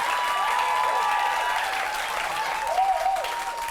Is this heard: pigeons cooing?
no